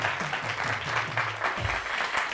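A studio audience claps for the house band on a comedy talk show, a steady, dense wash of applause running the whole time with a faint low hum underneath.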